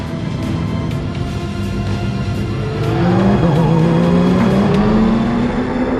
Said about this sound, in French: Pas facile de trouver sa place sur la piste avec une trentaine de voitures